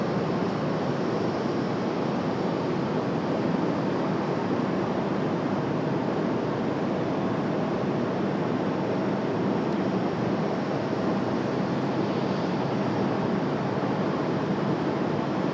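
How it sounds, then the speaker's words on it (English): FedEx aircraft departing Raleigh-Durham in the evening, a sustained loud engine roar holding steady and dense for the full length, with no voices over it. "FedEx 1292, that is going to be our last departure of the evening"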